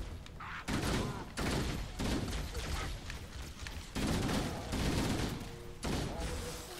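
Assault rifle fire in Halo rattles out in several loud, sustained bursts separated by short pauses, with a voice talking underneath.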